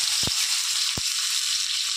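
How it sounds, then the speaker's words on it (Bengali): Chopped onion sizzles in the hot oil left from frying fish, a steady bright hiss running throughout, broken by a couple of short, soft low knocks from the pan. "এবার ওই মাছের তেলেই আমি ফোড়নে দেব পেঁয়াজ কুচি।"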